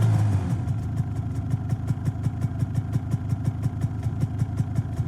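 A motorcycle engine idles in Fortnite, a steady low throb with evenly spaced pulses, close and continuous from start to finish with no talking.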